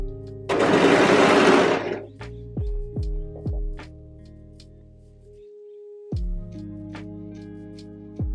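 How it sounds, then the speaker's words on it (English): Sewing machine stitching along the pinned edges of a dress, a loud close whirring burst of about a second and a half, followed by a few quiet clicks and soft handling sounds. "now you just want to go in and sew along all of the edges that you've pinned"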